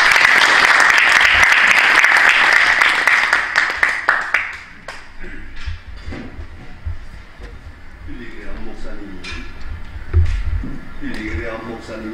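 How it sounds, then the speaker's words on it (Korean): Audience applause welcoming a speaker at a Korean senior association Christian thanksgiving worship service, loud and sustained for about four seconds, then fading into quieter room sounds. "말씀을 증거해 주시겠습니다. 박수로 환영하겠습니다."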